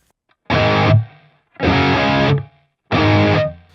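Three heavy, distorted electric guitar chord bursts, each stopping abruptly into silence, punchy and tight with clean gaps between them.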